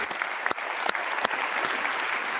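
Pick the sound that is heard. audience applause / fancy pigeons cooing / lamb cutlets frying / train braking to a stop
audience applause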